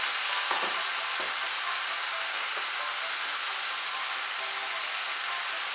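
Eggplant, fish head and green chillies fry in a pan with a steady, close sizzle throughout, broken by a few brief stirring knocks.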